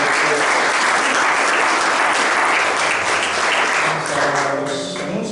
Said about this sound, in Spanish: Damos un aplauso a nuestro Señor.